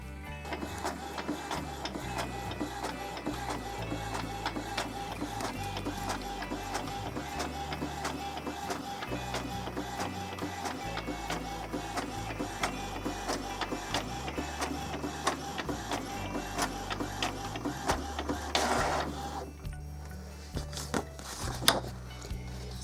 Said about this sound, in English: I'm just going to put this in the printer